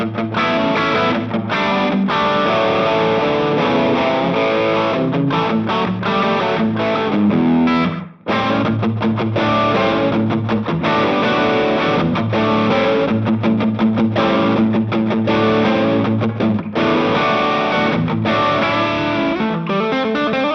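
Electric guitar run through an Ibanez SDR-1000+ short room reverb preset for rock rhythm tones, loud distorted chugging chords with brief tight ambience, one abrupt stop midway before the riff resumes.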